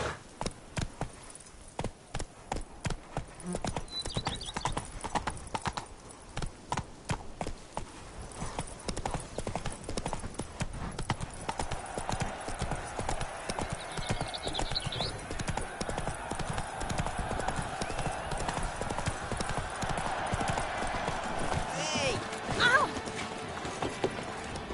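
Horse hooves clip-clopping continuously in The Witcher 3, a fast steady beat that grows denser as the gallop picks up, with occasional gear jingle and a voice briefly speaking over it.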